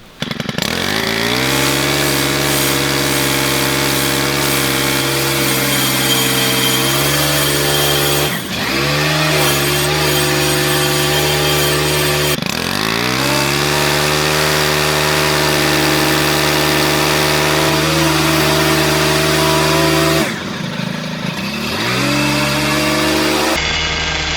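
A gas string trimmer runs continuously against plastic fence armor at a fence post, a loud, steady buzzing whine that dips briefly in pitch several times as the line bogs against the guard.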